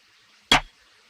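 A single trap snare hit, pitched down 200 cents for a darker tone in an FL Studio UK drill beat, lands alone as one short, punchy crack over near silence.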